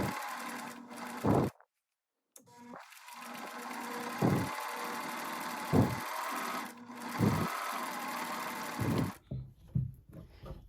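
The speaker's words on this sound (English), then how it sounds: "So let's go to the sewing machine and get it done." A sewing machine runs in several short bursts of rapid mechanical stitching, separated by brief pauses and quiet handling noises, fairly close.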